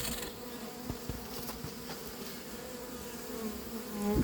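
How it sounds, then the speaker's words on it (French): A recovered honeybee swarm inside an oversized cardboard box buzzes in a continuous low drone, close and fairly quiet, with no voices and a slight swell at the end. "C'est l'essaim récupéré cet après-midi à Noisy-sur-École."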